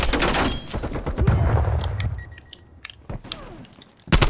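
Gunfire in Call of Duty Black Ops Cold War, a burst of sharp shots near the start and another loud volley at the end, with scattered impacts and game noise in between.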